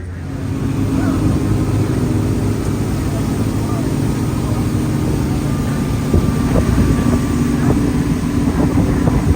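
A tour motorboat rated at 1,000 horsepower, running at speed off Belize, gives a steady loud engine drone with water and wind rush throughout, while people talk faintly underneath.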